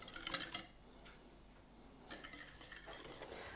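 A wire whisk beats eggs and sugar in a bowl for caramel muffin batter, making close, brisk scraping and clinking strokes in a few uneven bursts, with no talking.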